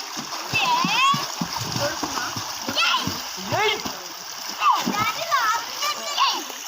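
Children splashing and playing in water during a swim, with irregular close splatters and bursts of excited kid voices and chatter throughout.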